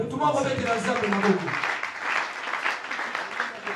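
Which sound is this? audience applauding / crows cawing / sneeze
audience applauding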